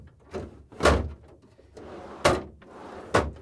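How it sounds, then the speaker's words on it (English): Whirlpool refrigerator pantry drawer pushed in on its rails, giving three sharp clunks and slides at a steady pace, close and fairly loud with a soft rumble between them. "the drawer in all the way"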